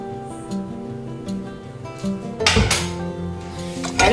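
A deep frying pan is handled in a home kitchen while cooking butter chicken, giving several close metallic clanks and knocks, the loudest near the end, over steady background music.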